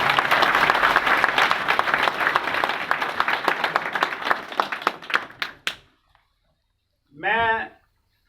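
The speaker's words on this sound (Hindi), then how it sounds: "एक बार जोरदार ताली।" An audience at a business meeting breaks into loud, dense applause that thins into scattered claps and stops, followed after a short silence by a brief spoken voice.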